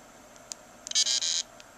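A Planet Eclipse Ego 10 paintball marker's board powers on with a few faint ticks, then a bright electronic beep tone held about half a second, broken by a short gap and resumed, heard alone and close.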